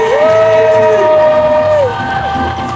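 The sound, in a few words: church congregation cheering and acclaiming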